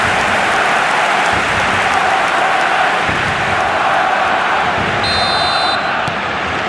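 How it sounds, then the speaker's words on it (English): Stadium crowd in the eFootball football video game during a Barcelona match, a dense, continuous roar of cheering and chanting held at a steady loud level throughout, with a faint electronic tone near the end. "The crowd are calling for this to be put to bed."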